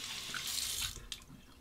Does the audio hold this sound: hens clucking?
no